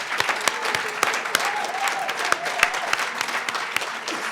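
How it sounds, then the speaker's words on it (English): Applause for award winners at an awards evening, a moderate crowd clapping steadily with a few sharper claps standing out, fairly close and continuous. "a round of applause for all our winners tonight"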